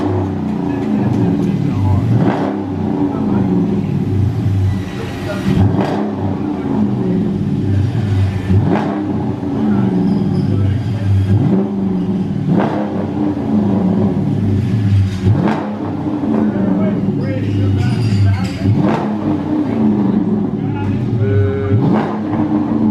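A 2018 Dodge Charger with Super 10 mufflers and a resonator delete rumbles close by, its deep, throaty idle broken by repeated revving blips that swell and fall back, with people talking nearby.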